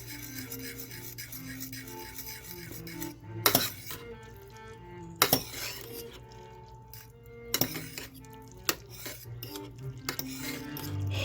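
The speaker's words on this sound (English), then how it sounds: "And we stir it in." A spoon stirs Wai Wai Quick Hot & Spicy instant noodles from Nepal in a pot. Soft scraping and rubbing run throughout, with a few sharp metallic clinks standing out.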